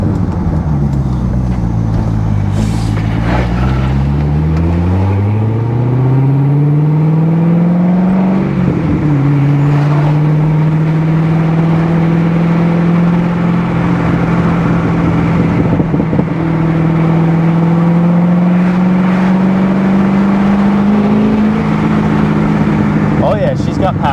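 A Corvette C6Z with an LS7 V8 revs through a series of downshifts on a morning drive, its loud engine note dropping and swelling with blips between gears, heard from inside the car.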